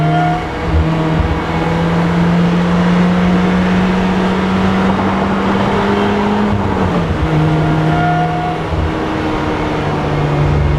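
A Rezvani Beast Speedster drives through traffic, its engine droning loud and steady from inside the car with a shifting pitch and a brief dip midway, under continuous road noise.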